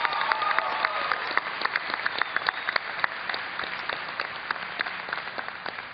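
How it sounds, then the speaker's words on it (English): Sustained applause from a large convention crowd at BlizzCon 2010, a dense, steady wash of many hands clapping with scattered louder claps, heard at a moderate distance with no speech over it. "if you could just give a big hand to those guys out there"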